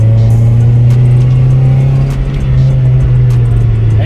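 A Honda B18B engine fitted with a new exhaust, loud and close, holding a steady low droning rev with a deep constant hum and rough rumble, without talk.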